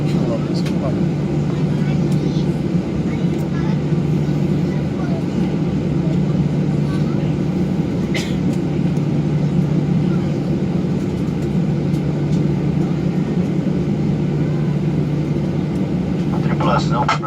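A Gol airliner taking off from Recife Airport, heard as a loud, steady engine roar that fills the cabin throughout with little change, along with a few faint clicks.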